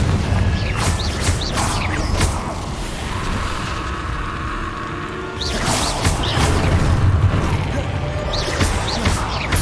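Spell blasts in the video game Hogwarts Legacy, with the Confringo fire-blast among them: crashing, whooshing bursts and mechanical creaks in two loud waves separated by a brief lull.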